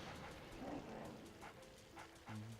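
A dog barks a few times in the Luigi's Mansion video game, short game-style yips near the water bowl, with soft background game ambience and a brief tonal jingle near the end.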